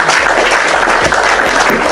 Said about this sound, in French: commandant, des applaudissements.